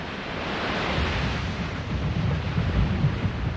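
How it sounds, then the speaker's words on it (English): Heavy surf roars steadily against rocks at Bondi Beach, a continuous loud wash of crashing water with wind noise and no voices. "the waves pummel them against the rocks"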